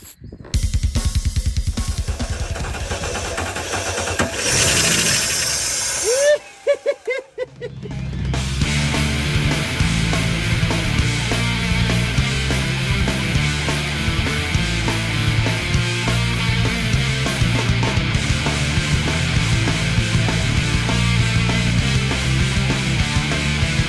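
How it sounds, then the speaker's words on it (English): A VN SS Commodore's engine, long left sitting in a paddock, cranks over, catches, and settles into a loud, steady rumbling idle that carries on without pause. "we fire up a Paddock Fine VN SS Commodore"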